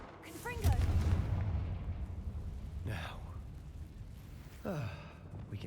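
A Confringo fire spell blast from the Hogwarts Legacy video game bursts loudly with a deep booming rumble, followed by two shorter whooshing bursts that fade into a lingering low roar.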